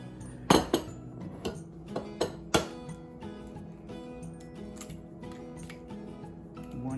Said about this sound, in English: Need to break the egg.